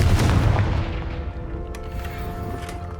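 A Confringo blasting spell in Hogwarts Legacy detonates with a heavy, booming explosion that rumbles loudly at first and then fades into a lingering low roar.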